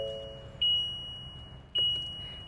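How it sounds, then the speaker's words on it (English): Two short electronic beeps, a little over a second apart, sound over a quiet low hum inside a 2024 Winnebago EKKO 22A camper van after push-button start. "It's gonna keep beeping at me."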